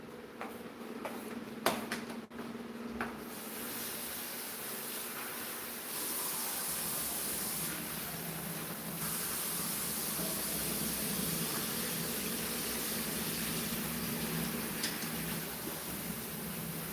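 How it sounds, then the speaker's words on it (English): Chopped onions being rinsed under a running kitchen tap, a steady broadband hiss of flowing water that begins after a few soft clinks and taps and continues evenly, fairly close, with no talk. "Let's rinse this up."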